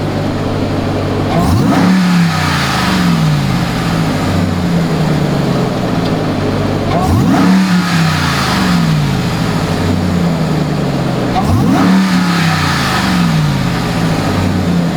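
A supercharged RAM 1500 TRX with its stock intake revs hard three times, each rise and fall spaced a few seconds apart, loud and close over a steady idle.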